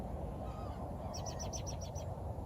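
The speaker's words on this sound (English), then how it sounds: "All of these gulls are fighting over" Several gulls give a quick series of sharp, repeated calls in a squabble over food, a crow also nearby, heard at moderate distance over steady outdoor rumble and wind.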